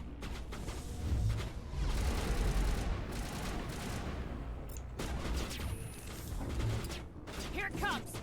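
Sustained automatic gunfire in the Mass Effect Legendary Edition game, with dense rattling bursts and mechanical clatter over several seconds and a brief lull midway, with a voice partly overlapping.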